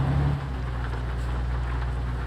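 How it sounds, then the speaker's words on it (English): Steady rain in Euro Truck Simulator 2 while a truck drives through Spain near Sevilla, a dense continuous wash with a low engine rumble beneath, even in level throughout. "Crazy to think that it's raining like this in Spain."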